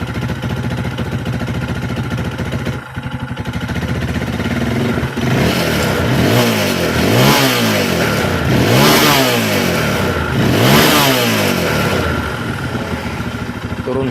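A Yamaha Scorpio motorcycle engine, with a fault causing misfiring and exhaust backfire, idles near and close up, then revs in repeated rising and falling bursts, loud and alone.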